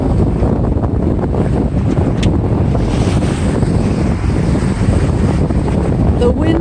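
Sailboat under engine power with only the mainsail raised, running along the Cancun hotel coast in a southeast wind; steady loud wind buffeting the microphone mixes with water wash and a low continuous motor rumble throughout, with no talking.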